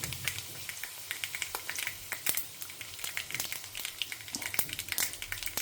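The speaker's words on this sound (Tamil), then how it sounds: "கடுகு பொரிய ஆரம்பிச்சிருத்து வத்த மிளகாய் போட்டுக்கலாம்" Mustard seeds and dried red chillies fry in hot oil during tempering, giving a steady close crackle with many sharp pops scattered throughout and no talk.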